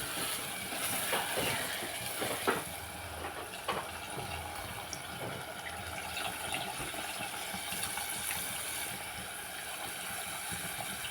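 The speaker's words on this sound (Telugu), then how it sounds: "చింతపండు పులుసు వేసుకుందాం" Tamarind juice poured into a cooking pot, a steady, soft liquid splashing and trickling that runs throughout, fairly faint and alone.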